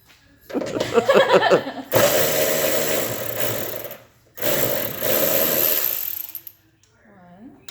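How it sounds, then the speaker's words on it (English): A cordless electric ratchet buzzes in close, loud bursts while it removes hood latch nuts on a Jeep, with two long whirring runs separated by a brief pause, then a short quiet stretch with a faint voice at the end. "It's a cordless air ratchet."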